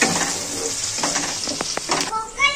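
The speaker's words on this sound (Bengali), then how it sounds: "টমেটোটাকে নেড়ে ছেড়ে ভালো করে ভেজে নেবো, টমেটো আর কাঁচা লঙ্কাটা" Tomatoes and green chilies with a pinch of salt fry in a pan for a vegetarian shola kochu curry, a close, continuous hiss of sizzling with a few quick spatula taps.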